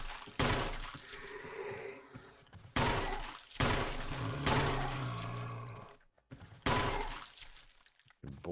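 Bursts of gunfire in the survival horror game Resident Evil, set in a mansion: several loud, rapid volleys with short gaps between them, each ending in a ringing tail, close and dominant.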